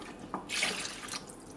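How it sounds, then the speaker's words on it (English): Hot water poured into a pot of jollof rice, a short soft splash and trickle of liquid lasting about a second, quiet and close. "Let's put a little bit more hot water."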